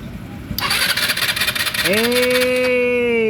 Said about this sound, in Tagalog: check natin, start natin yung motor